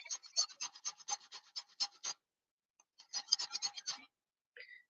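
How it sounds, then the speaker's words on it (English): A whole fresh lemon is grated for zest, making quick, close, rhythmic scraping strokes in two bursts separated by a short pause. Each burst has a crisp, bright rasp, and a faint clink follows at the end. "How's that lemon grating ASMR?"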